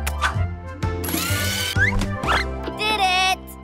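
Screws tightened with a ratchet tool in a children's cartoon: quick bursts of ratcheting clicks and whirring mechanical turns, mixed with cartoon sound effects and bright tonal sweeps.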